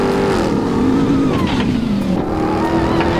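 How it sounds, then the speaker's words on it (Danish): A US pickup truck with a V8 engine revs loudly and close by, its deep engine note rising and falling in pitch over a few seconds with no talking. "En hvilken som helst US truck med V8 motor."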